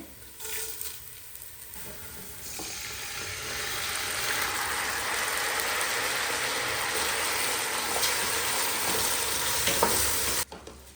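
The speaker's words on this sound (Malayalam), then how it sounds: "ചെറുതായിട്ടൊന്ന് വറുത്തെടുക്കണം അരി" Basmati rice being stirred and toasted in a hot pan, a continuous dry sizzle and scrape that builds after a quiet start, then stops abruptly.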